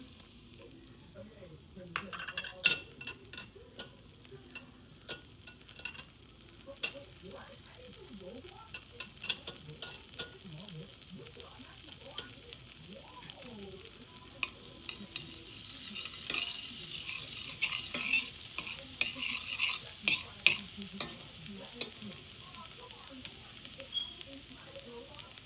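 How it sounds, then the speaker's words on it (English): Garlic frying in a pan with stirring, being cooked for wings, fries and buffalo sauce; a soft, steady sizzle runs throughout, broken by scattered scraping and clicking strokes, louder and hissier in the second half. "So we're gonna let the garlic cook a little bit until you smell it"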